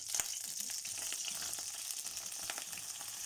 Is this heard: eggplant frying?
yes